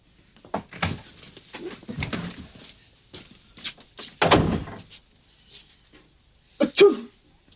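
A single sharp sneeze bursts out in a quiet janitor's closet, standing apart from scattered soft thumps and rustles.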